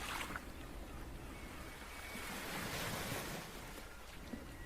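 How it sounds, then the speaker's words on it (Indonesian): Stormy surf and strong wind at Rancabuaya beach in Garut, a continuous roar of breaking waves mixed with gusty wind buffeting the microphone, fairly faint and steady. "Ranca Buaya kayak badai, anginnya kencang banget, gelombangnya tinggi"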